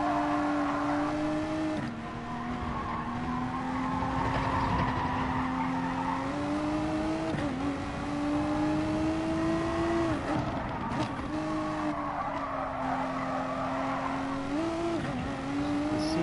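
Race cars in Gran Turismo Sport roar continuously at close range, engines rising and falling in pitch through gear shifts and braking, with a steady loud drone and no talk over it.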